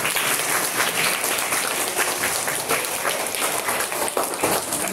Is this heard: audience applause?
yes